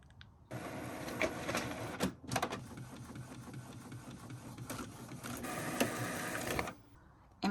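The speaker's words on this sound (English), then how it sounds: "Okay, my printer's already on." Printer feeding and printing on sublimation paper, a steady mechanical whirr and rhythmic clacking of the print head running for about six seconds, close and fairly loud, then stopping.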